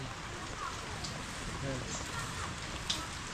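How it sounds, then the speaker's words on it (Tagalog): Rain pours down in a dense, steady hiss that holds at an even level throughout, with a few faint patters standing out. "lumalakas ang ulan"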